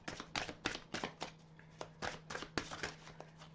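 Psychic reading cards are shuffled up close, a quick series of soft riffling snaps and slaps in uneven bursts, quiet with no talking.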